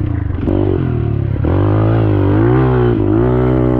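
Motorcycle engines fire up and rev after a gate drop in a dead-engine start, a loud, close roar of several motors climbing in pitch together with a clattering burst at the start.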